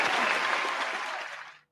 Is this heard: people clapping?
yes